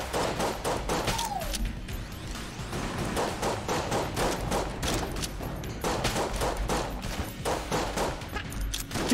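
Constant rapid gunfire from the bullet-hell game Enter the Gungeon, sharp repeated shots in quick bursts with thuds and impacts, loud and steady across the whole stretch.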